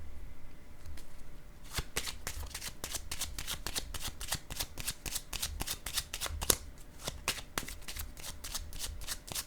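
Tarot cards shuffled for a reading, a rapid run of crisp riffling flicks close by, starting slowly and then coming in dense bursts, no voices.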